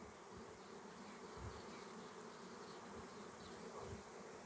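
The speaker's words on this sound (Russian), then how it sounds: "Вот только что туда зашел рой." A honey bee swarm buzzing near a hive: a steady, dense drone of many wings with no break, fairly close and fairly quiet, and no voices.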